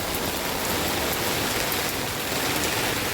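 Steady rain pours down in a dense, even hiss on a rainy day, close and constant with no voices.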